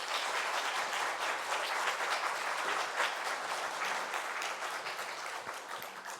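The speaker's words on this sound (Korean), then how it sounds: "우리 선교사님 나오실 때 크게 박수로 환영하겠습니다" A church congregation at an afternoon praise service bursts into steady, dense applause to welcome a missionary, the clapping loud and sustained throughout without any speech.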